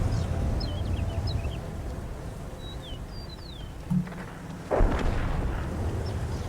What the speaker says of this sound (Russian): Вот это был выстрел Веры.